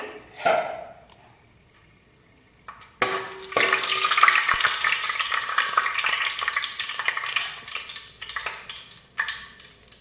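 Whole spices and bay leaf frying in oil in a pan: after a quiet moment, a loud, close, continuous sizzle bursts up and holds steady with occasional stirring knocks.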